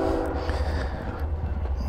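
A train rolls past close by, a steady low rumble with sustained horn-like tonal bands running throughout, heard during a motorcycle evening ride.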